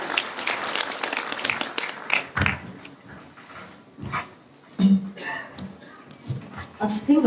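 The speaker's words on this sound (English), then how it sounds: "a big round of applause for Chef Amarjeet Kumar and his team from Yatai" An audience at a live chef judging event in Bangalore claps for a chef and his team, a dense burst of applause that thins into scattered claps and background chatter.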